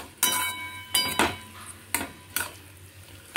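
Everest amchur and pav bhaji masala being stirred into mashed potato for bharta, a few distinct scraping clinks of a spoon against a pot, spaced irregularly and close, with no talk.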